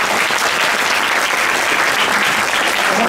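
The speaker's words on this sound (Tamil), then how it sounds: "அந்த 4 பேருக்கு இன்னொரு கைத்தட்டு." Continuous audience clapping at a Tamil pattimandram speech event, thick and even applause from a large crowd filling the whole moment.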